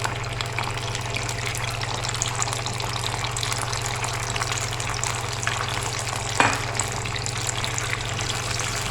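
Makhandi halwa roasting in a pan over a low flame, giving a steady, soft, continuous frying sizzle with one brief clink partway through and no talking.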